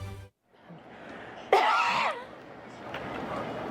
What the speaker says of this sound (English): Was that a cough?